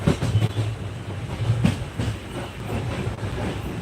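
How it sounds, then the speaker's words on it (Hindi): A train pulls away, its railcars rumbling with rhythmic clickety-clack wheel knocks that stay fairly loud and near throughout, with no voices. "तो भैया ट्रेन छूट चुकी है।"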